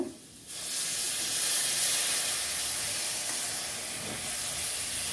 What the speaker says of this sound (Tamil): எடுத்து வச்சிருந்த லெமன் ஜூஸ் ஊற்றிக்கலாங்க